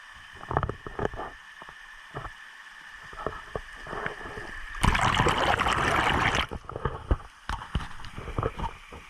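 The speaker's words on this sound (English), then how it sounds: "I like seeing what water looks like rushing underneath." Mountain stream water rushing beneath a trail on Algonquin Peak in the Adirondacks, a steady close wash that swells into a loud, dense surge midway, with scattered knocks and rustles from the hiker around it.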